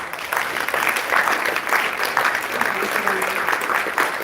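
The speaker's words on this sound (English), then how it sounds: "I just want to give a round of applause to our panelists." An audience claps for panelists at a California reparations task force listening session in San Diego, a steady wash of moderate applause lasting about four seconds with faint voices underneath.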